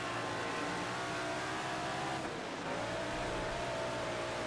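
A sprint car engine in the World of Outlaws racing game roars steadily and loudly at high revs, its pitch dipping briefly midway before climbing again, with no talk over it.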